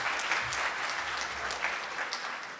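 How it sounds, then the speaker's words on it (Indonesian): A seated audience at a legal seminar gives a short burst of steady clapping, even and moderately loud throughout. "Tepuk tangan untuk Bapak Ibu semua ya"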